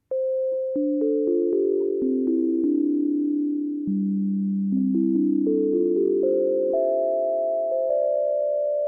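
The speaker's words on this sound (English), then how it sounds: "So let's just take a listen to one of these sine waves." Pure, steady sine tones from a Novation Peak synthesizer oscillator step through a sequence of pitches, each held smoothly for about a second, clean and continuous with no voices.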